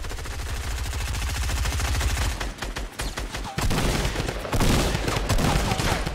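Rapid automatic gunfire in Fortnite roars in dense, continuous bursts, then breaks into scattered shots and louder renewed volleys, close and loud with no talk.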